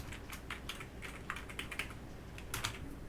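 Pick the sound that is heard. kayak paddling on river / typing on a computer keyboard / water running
typing on a computer keyboard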